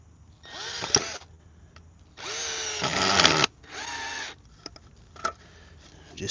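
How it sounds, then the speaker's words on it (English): A power drill drives a screw into a pre-drilled hole for a pull-up bar foundation in several close, loud whirring bursts that rise in pitch and effort, with short pauses and light clicks between them. "Let's tap a screw in there."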